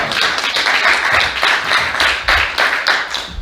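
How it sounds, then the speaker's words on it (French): An audience at a public event in Le Mans claps for the speakers, a close, uneven applause with distinct rhythmic hand claps rising and falling. "si vous voulez bien les applaudir"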